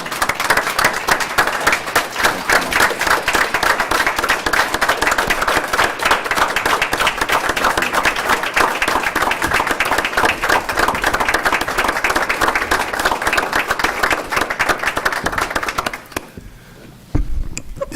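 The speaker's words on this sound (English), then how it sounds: "please join me in a round of applause" An audience at a board meeting gives sustained, dense applause with steady clapping for about sixteen seconds before it drops off into quieter room noise at the end.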